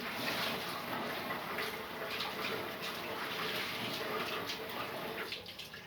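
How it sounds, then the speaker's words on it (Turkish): Steady tap water runs and splashes in a kitchen sink while hands are washed, a continuous close rushing wash with no talking. "Elimi de yıkıyorum."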